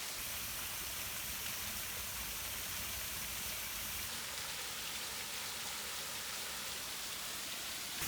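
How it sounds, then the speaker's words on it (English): A small outdoor waterfall rushes steadily, a constant broadband hiss filling the scene at an even level from start to finish with no voices. "there's a lot of background noise from the waterfall"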